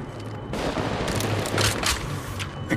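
Rapid bursts of gunfire in the mobile battle royale game Apex Legends Mobile, loud and dense, with overlapping shots and impacts running through the whole stretch and no talking.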